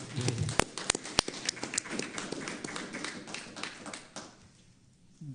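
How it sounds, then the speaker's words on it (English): Applause from attendees at a city council meeting: a brief patter of claps, fairly faint and somewhat distant, thinning out and fading to near quiet by the end. "Yeah, you can give her a round of applause."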